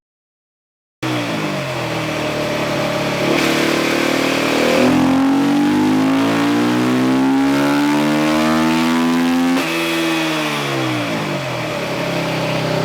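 A 2022 Beta 350 RR Race Edition dirt bike engine revs on a dyno, loud and close, its pitch climbing and falling in long sweeps through sustained throttle runs, with no voices.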